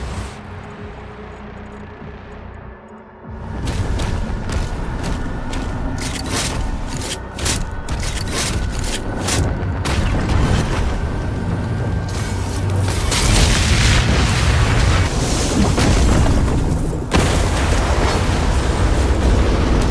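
A Hell cannon in Kingdom Come fires and explodes, starting with a heavy boom after a quieter opening, then a long, loud, continuous rumble of blasts and crackling debris with no voices.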